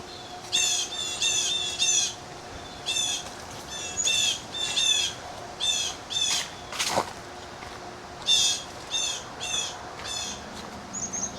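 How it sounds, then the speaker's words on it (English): Birds squawk and chirp in repeated short bursts near a river access point by the Mio Dam on the Au Sable River, the calls loud and close with brief pauses between them over a quiet outdoor hum. "Birds are chirping."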